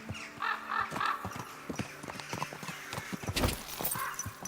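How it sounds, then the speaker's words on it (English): Horse hooves clip-clop in a quick, irregular rhythm amid a neigh or whinny in the video game Kingdom Come Deliverance 2, close and fairly loud with some background game ambience. "My, how beautiful horse."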